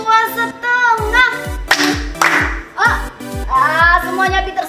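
Children's hand-clapping game at an online Sunday school session, with short bursts of claps in counted patterns alternating with a woman's and children's voices talking and singing over a low rhythmic backing.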